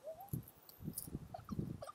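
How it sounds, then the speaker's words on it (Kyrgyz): A puppy met along a road while children learn horse riding gives faint, short whimpers and yips in a scattered, uneven run, quiet and close with light background noise. "Мынакей жолдон дагы күчүктү көрүп калып, ал менен да ойношуп атат."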